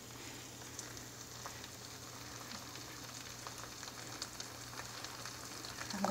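A Loma Linda veggie burger fries in oil in a pan, giving a steady, close, crackling sizzle that runs unbroken throughout with no talking.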